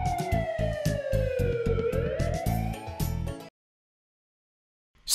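Wailing ambulance siren from a children's car-building cartoon, a loud up-and-down electronic tone over a rhythmic musical beat for about three and a half seconds, then an abrupt cut to silence.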